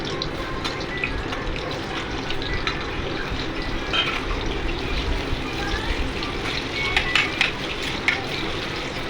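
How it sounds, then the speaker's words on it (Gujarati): Potatoes fry in hot oil with a steady close sizzle and crackle, broken by light stirring clatter and a few brighter pops. "ફ્લાવર થઈ ગયા પછી આપણે બટેટાને પણ આવી રીતે જ ફ્રાય કરી"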